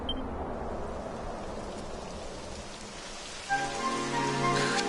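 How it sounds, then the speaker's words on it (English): Rain begins to fall in a video game, a soft steady patter on surfaces that thickens into heavier drops toward the end, alongside a faint tonal game sound. "It would have to go and start raining, wouldn't it?"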